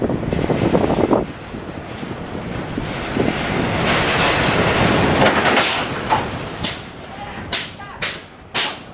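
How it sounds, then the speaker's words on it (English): Roller coaster train running along the tilt track at Nagashima Spa Land, a rushing rumble with wind buffeting the microphone, then a run of sharp, whip-like clacks in the last few seconds. "There it goes on the tilt track."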